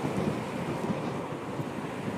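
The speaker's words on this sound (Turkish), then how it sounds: "Tam 100 hizasında rüzgar alıyor." Steady roaring wind buffeting a helmet microphone while riding a Yamaha Nmax 155 scooter with a touring windscreen at highway speed, a continuous loud broadband rush with no talk.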